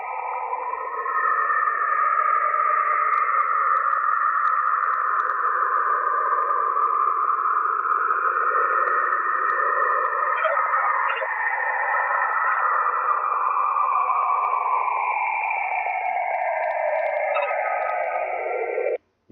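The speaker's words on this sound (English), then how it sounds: "Now the next one's also radio emissions from Saturn." Saturn radio emissions recorded by NASA, rendered as a continuous eerie wavering tone with sweeping, whistling pitch glides, loud and unbroken for about eighteen seconds before cutting off.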